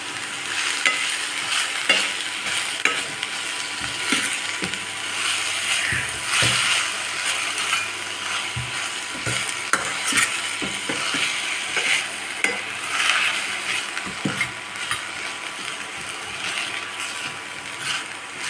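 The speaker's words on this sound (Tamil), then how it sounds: "லைட்டாக வதக்கி எடுத்திங்கன்னா" Spring onion greens sautéing in a pan, heard close up as continuous sizzling with frequent scraping and clicking stir strokes throughout, no voices.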